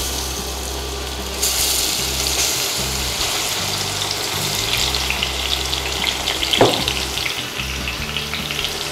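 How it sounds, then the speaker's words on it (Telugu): Grated carrot frying in hot ghee, a steady close sizzle that swells suddenly after the first second and holds bright and continuous, with a brief scrape of stirring near the end; no voices. "మనం తీసుకున్న ఈ 2 కప్స్ క్యారెట్ తురుముని వేసుకొని ఫ్రై చేద్దాం."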